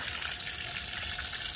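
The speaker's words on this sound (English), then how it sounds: "So we're gonna soak this with hot water for a few minutes" Hot water gushes steadily from a hose or spout onto a frozen water line to thaw it, a continuous hissing splash, fairly faint and alone without voices.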